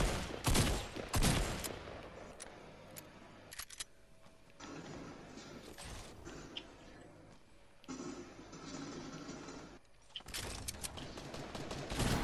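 Fortnite gunfire in a PS4 match, shotgun blasts and bursts of automatic fire crackling in clustered volleys, punctuated by quieter gaps with clicks and movement sounds.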